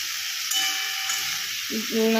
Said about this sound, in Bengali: এবার ফুলকপিটা একটু নেড়ে দিই